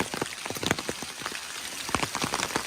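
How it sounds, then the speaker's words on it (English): Pouring rain at a trail access point, dense patter of drops striking surfaces close by, steady and fairly loud with no voices. "I want to show you the rain we were dealing with when we got there"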